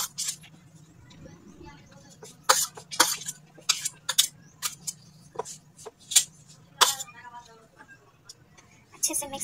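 Chopped onion, tomato and carrot being stirred together in a bowl, with a scatter of sharp clinks and taps of a spoon against the dish, irregular and close, over a low steady hum.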